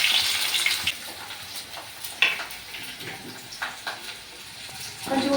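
Chopped onions fry in a pan with cumin and curry leaves, a soft sizzle with irregular stirring scrapes and clatters, louder at the start and near the end.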